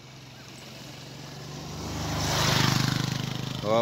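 A motorcycle approaches and passes over a wet road crossing at Sítio Alto do Moura, Custódia, Pernambuco; its engine drone builds steadily from faint to loud and close, with a pulsing exhaust note near the end, and no talk.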